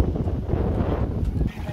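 Gusty wind buffets the microphone outdoors at a factory outlet mall in Calgary on a cold day, a steady low rumble with brief surges.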